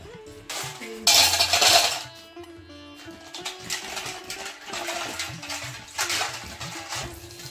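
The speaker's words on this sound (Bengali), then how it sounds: "এবারে সব মটরশুঁটিগুলো দিয়ে দিলাম এই ঠান্ডার মধ্যে" Green peas poured into a container of ice-cold water: a sharp clattering rattle, then softer intermittent clinks, splashes and stirring sounds nearby.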